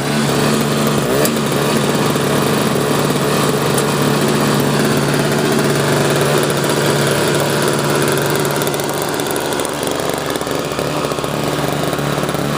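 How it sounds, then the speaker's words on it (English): A Sears snowblower engine, cleaned out and rebuilt, runs with the choke completely off, a loud, steady, close-up buzzing drone that holds even throughout with no talk. "that's how it runs with the choke completely off on there"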